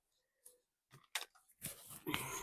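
Scissors snip through paper for an autumn craft project, giving a few close, sharp crisp cuts followed by rustling paper handling.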